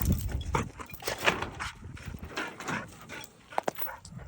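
A farm dog in Jamaica gives short barks and whimpers across a few seconds, fairly close, mixed with outdoor farm noise and some movement.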